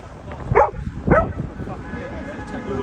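A dog gives two sharp barks close by at an outdoor street protest outside a hotel, the second bark following about half a second after the first, with a person talking nearby.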